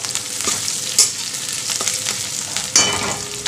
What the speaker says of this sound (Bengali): পেঁয়াজগুলো আমি বাদামি কালারে ভাজা হয়ে গেল।